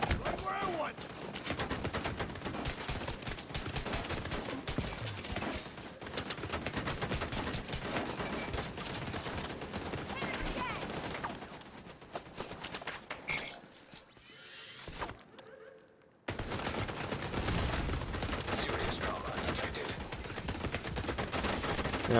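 Sustained gunfire pounds a player's shield in The Division video game, a dense, continuous barrage of rapid shots with a brief lull near the end before the firing resumes at full loudness.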